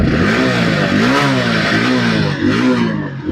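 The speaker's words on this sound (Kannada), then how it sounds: "ಇಂಜಿನ್ ಸೌಂಡ್ ನೋಡ್ರೆ ಎಷ್ಟು ನೀಟ್ ಆಗಿ ಐತೆ ಸೌಂಡ್" A 2022 Hero HF 100cc motorcycle in good condition, with about 38,700 km on it, revs up close and loud, its single-cylinder engine rising and falling through two or three throttle blips.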